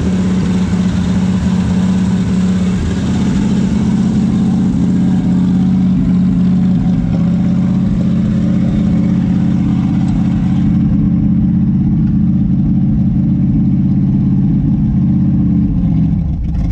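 A 1964 Chevy Impala SS Convertible engine runs close and loud, holding a deep, steady rumble with slight swells in pitch as the throttle is worked, with no talking over it.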